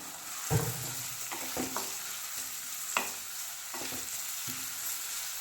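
Onions and green chillies sauté in oil for a Madurai-style egg masala. A constant soft sizzle runs beneath repeated spatula scrapes and taps against the pan at irregular intervals. No one speaks.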